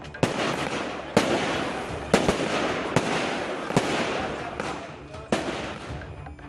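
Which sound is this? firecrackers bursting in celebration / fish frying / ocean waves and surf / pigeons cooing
firecrackers bursting in celebration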